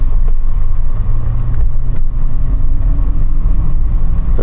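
A car, a Ford GT or a BMW E39 M5, pulls away gently in first gear, a loud, low engine rumble with road noise from inside the cabin, steady throughout.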